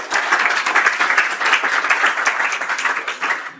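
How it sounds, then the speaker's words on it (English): Crowd at a tech conference applauding, a brisk, dense burst of many clapping hands, close and loud, holding steady before cutting off sharply at the end. "Can I get a quick round of applause for our sponsors"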